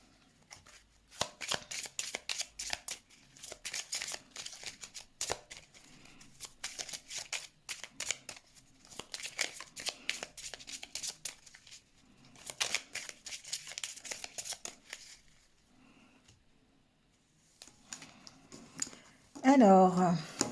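Tarot cards shuffled by hand for a card reading, giving bursts of papery riffling and flicking that come and go in repeated spells, with a louder shuffle near the end.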